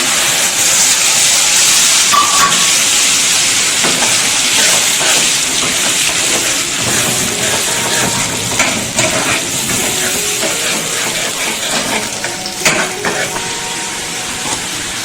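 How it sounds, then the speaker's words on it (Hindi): Masala paste added to hot oil sizzles and fries with a loud, steady hiss that continues evenly throughout, with faint clinks and tones in the background and no talk. "अब ऑयल गरम हो चुका है, उसमें मैं जो पेस्ट करके रखी थी वही मसाला ऐड कर लेती हूँ।"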